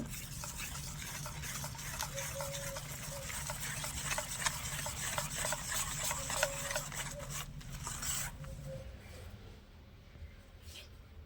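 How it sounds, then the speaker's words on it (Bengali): A whisk stirs rice cake batter mixed with chopped dry fruits in a bowl, giving a steady, close scraping and swishing rhythm for about eight seconds before it fades to quieter handling. "সব কিছু হুইস দিয়ে ভালোভাবে মিশিয়ে নিয়েছি"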